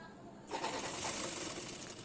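A sewing machine stitching the neck fabric onto a nighty starts abruptly and runs in a steady, close mechanical whir for the rest of the moment.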